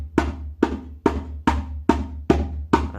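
A beginner strikes slap strokes on a djembe, seven sharp, close hand hits at an even, steady pace, each one cracking out and decaying quickly, with no voices.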